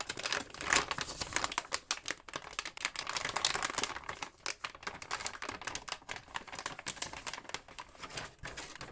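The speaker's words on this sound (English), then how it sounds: "Let's undo this tape gently." Close crinkling and crackling of the electrostatic plastic wrap and tape being undone from an MSI RTX 3090 Gaming X Trio graphics card, a dense run of sharp rustles that thins into scattered crackles.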